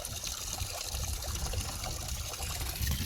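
Water runs steadily from a garden hose outdoors, a soft continuous trickle and splash at low volume with no talking.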